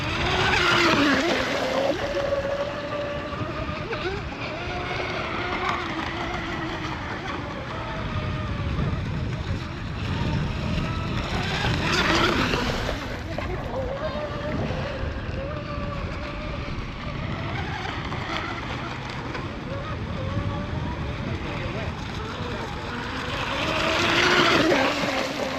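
A J&R Marine H26 RC hydroplane running a lap on open water, its high-revving engine whining steadily and then swelling louder as it passes close, around 12 seconds and again near the end, under faint background chatter.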